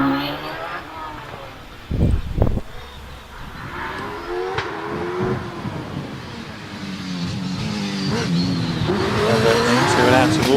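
An OMS 28 hillclimb race car with a 3.2 litre RPE V8 screams through gear changes, its engine note rising and falling as it passes and builds toward a loud pull, with a commentator talking over it.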